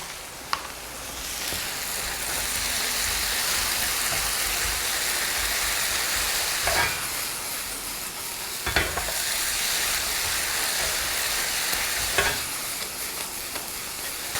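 Tomatoes and tomato paste stir-fried in a wok over high heat give a steady, loud sizzle, broken by a few sharp spatula scrapes and clanks against the pan.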